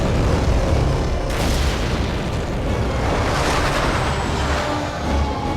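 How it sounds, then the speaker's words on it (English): Photon torpedo explosions in a Star Trek video game, heard as loud, continuous booming rumbles with several heavy blasts overlapping, close and dense, with no talk over them. "He just launched, like, 3 quantum torpedoes? Holy shit, that's a lot of photon torpedoes"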